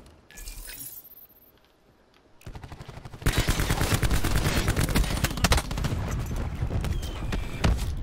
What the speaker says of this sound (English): Let's stop firing at the guy that we were firing at and all focus on a different guy.